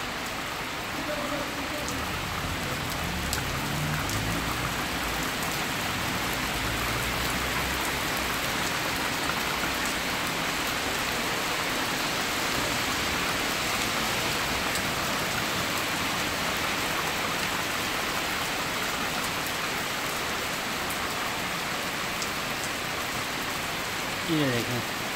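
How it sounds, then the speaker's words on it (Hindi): Heavy rain pours steadily and loudly in Berlin, a dense continuous hiss of drops with no pauses. "बर्लिन के अंदर फुल स्पीड बारिश,"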